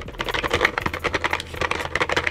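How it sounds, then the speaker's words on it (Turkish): Rapid membrane-key clicking on a Philips SPT6354 wireless keyboard, a dense run of soft, close typing taps with an uneven rhythm and no voices. "Bu sesini duymuş olduğunuz tuşlarımız 10 milyona kadar da tıklama ömrüne sahipler"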